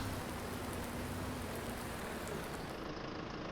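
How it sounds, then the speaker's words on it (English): Steady rain falls in a farming video game, a dense, even hiss of drops that stays constant throughout. "Finally the rain has ceased."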